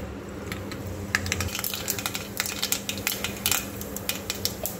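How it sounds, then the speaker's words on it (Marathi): Mustard seeds splutter in hot oil in a pressure cooker, a rapid scatter of sharp crackles and pops that builds after the first second over a low steady hum, close and fairly loud. "आपली मोहरी छान तडतडली आहे."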